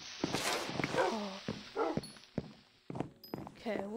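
Minecraft game audio with a dog barking and yipping in short bursts among clicks and thunks, while a person talks over it.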